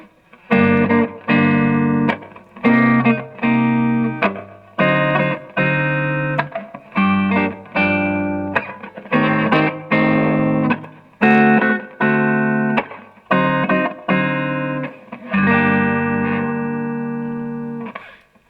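A Les Paul Recording electric guitar played through the neck pickup, a warm, rounded tone with chords strummed in a steady rhythmic pattern and ringing sustain, loud and close.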